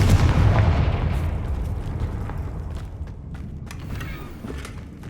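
A Confringo fire spell blast in Hogwarts Legacy, a big rumbling boom at the start that slowly decays into a crackling, fading tail with a few small pops.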